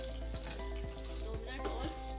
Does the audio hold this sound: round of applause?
no